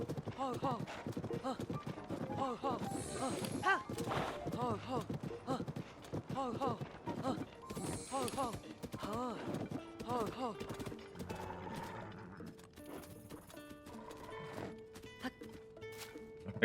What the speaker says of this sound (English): It's quite a fast horse.